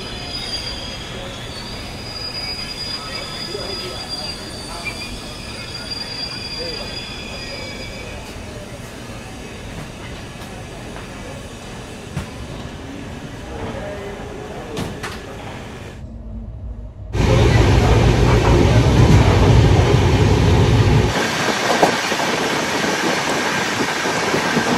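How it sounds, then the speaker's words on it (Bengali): A train pulls into Bardhaman Junction station, its wheels squealing steadily against the rails as it rolls along the platform, with a sudden louder rumble near the end as the carriage noise swells close by. "ট্রেন আমাদের এসে পৌঁছালো বর্ধমান জংশন।"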